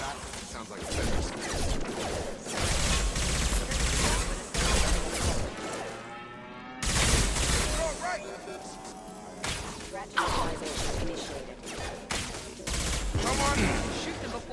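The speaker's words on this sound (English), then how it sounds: "Shoot them before they take out the shield." Rapid gunfire rattles through a shootout in the video game Mass Effect 2, dense bursts of shots and impacts that continue across the whole stretch, with a character voice speaking over the battle at times.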